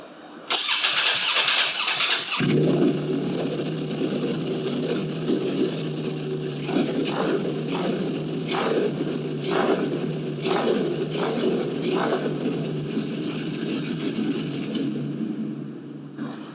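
A Ducati Panigale V4 motorcycle, a rebuilt crash bike, starts up in a supermarket car park, then idles with a deep, uneven burble and several short throttle blips before it cuts off, close and loud, with no talking.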